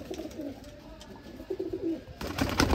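Pigeons cooing close by, soft rolling low coos repeated several times among faint rustling at a bird seller's loft in Sialkot, with a little background noise and no clear speech.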